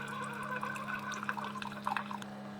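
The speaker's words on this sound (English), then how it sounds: "Now the Keurig is much faster. It keeps the water up to temperature, and it pretty much starts brewing right away." Keurig K-Duo coffee maker brewing: a continuous low machine hum under soft, irregular trickling and dripping of liquid, close and fairly quiet.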